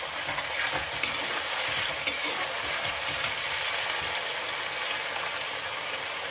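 Chopped tomatoes fry in hot oil with garlic paste in a pan for a mixed vegetable dish. A dense, steady sizzle carries on throughout, with a few soft stirring clicks and no speech.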